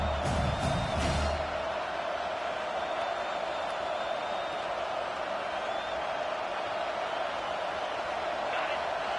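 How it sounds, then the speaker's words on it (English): A loud, steady stadium crowd roar in a Madden football video game fills the whole stretch at an even level, with a brief thump near the start. "This crowd trying to make life miserable for this offense."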